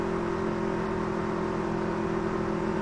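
Race cars rev up as the field restarts behind a pace car, heard from a hood-mounted position as a loud, steady engine drone with a constant tone and no talk over it.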